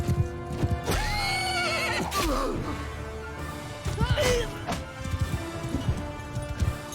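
Horses whinny loudly amid clattering hoofbeats and crashing impacts during a cavalry battle in Mount and Blade Bannerlord, with repeated neighs rising over the continuous galloping din of the fight.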